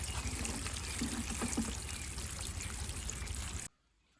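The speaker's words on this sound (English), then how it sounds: "So now we are watering this. So we are ensuring that all the clay balls get sufficient water" Water pours steadily over clay balls in a hydroponic deep water culture bucket holding a brinjal plant, a continuous close trickle and splash that stops abruptly near the end.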